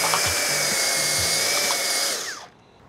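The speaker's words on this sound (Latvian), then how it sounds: "Šādas te urbis, kā jau es teicu" A gardening earth auger drill runs steadily on first gear with a strained motor whine, then winds down and cuts off near the end; no one speaks.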